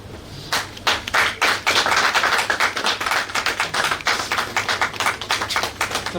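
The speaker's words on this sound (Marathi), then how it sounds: "त्यासाठी या मूर्तीसाठी जोरदार टाळ्याने आपण स्वागत करूया" At a journalists' conference award ceremony, an audience claps loudly and unevenly in welcome, with sharp overlapping claps that swell quickly and continue in waves for several seconds.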